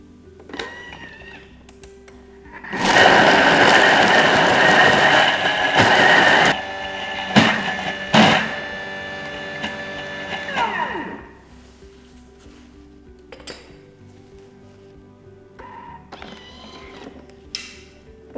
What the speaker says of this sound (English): now I will increase the speed to 8 and let it blend for another 1 minute